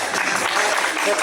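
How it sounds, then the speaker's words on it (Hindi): A short, loud burst of clapping rises from the crowd at an employee award function and pool party, dense and close, with voices mixed in. "एक बार जोरदार तालियां हो जाए।"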